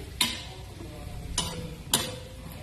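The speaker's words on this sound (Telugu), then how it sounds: "తర్వాత కొంచెం వేసుకుని బాగా పైకి కిందకి కలపండి" Cabbage curry being stirred in a pan, three distinct scraping strokes of a spoon against the metal, each followed by a soft rustle of the vegetables, close and moderately loud over quiet background.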